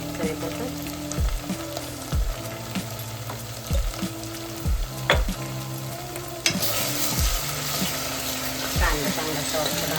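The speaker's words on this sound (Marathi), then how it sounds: "कांदा लालसर भाजून मीठ टाकूया चवीपुरतं." Onion frying in a pan for misal pav, a steady loud sizzle with repeated scraping stirs every second or so and a burst of brighter hiss partway through.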